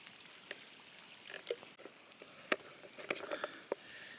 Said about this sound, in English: Wow, it's proper raining.